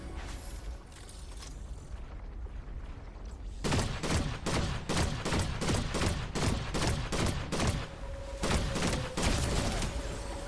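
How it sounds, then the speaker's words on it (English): Rapid bursts of fireworks fired by bots in the Fortnite video game crackle and pop in dense, loud volleys, with a steady rattle of repeated blasts after a quieter opening stretch. "All these bots shooting fireworks at me."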